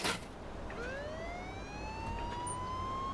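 Police siren in Mafia 2 rises and holds in a steady wail, moderately distant and fairly quiet over a low rumbling background, with no talk.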